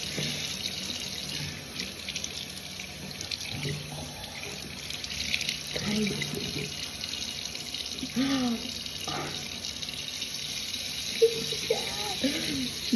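Tap water runs steadily onto a phone, a constant hissing splash that stays even throughout, with a few brief faint voice sounds and small clicks layered on top.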